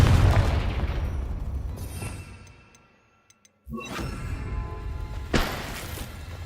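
Confringo spell blast in Hogwarts Legacy: a heavy boom that fades into near silence broken by a couple of faint ticks, then another sharp explosive hit and a rumbling roar with a later burst.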